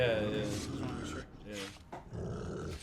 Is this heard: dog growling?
yes